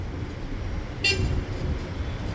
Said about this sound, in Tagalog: Ayan o, traffic Oh.